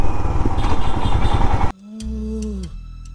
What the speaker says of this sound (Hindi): पहली बार बाइक चला रही हूँ मैं बारिश की मौसम में